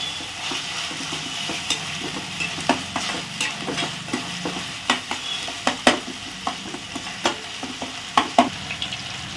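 Tomato sautés in hot oil in a pan, giving a steady close sizzle broken by frequent sharp clicks and scrapes of a spoon stirring.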